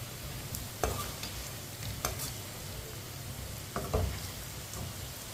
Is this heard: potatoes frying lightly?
yes